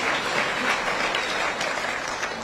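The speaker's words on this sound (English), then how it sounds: "Please give me a clap." Steady applause from a church congregation at a rally in Embakasi, a dense wash of clapping that holds at an even level for the whole stretch.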